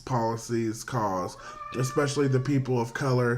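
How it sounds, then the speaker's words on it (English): A house cat yowls in loud, drawn-out, wavering cries, mixed in with a person talking nearby. "That was my cat."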